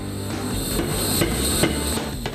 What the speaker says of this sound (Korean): 바로 쇠를 꺼내 망치질을 하는데요.